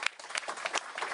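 A brief burst of applause, a crowd clapping together in a dense, steady patter.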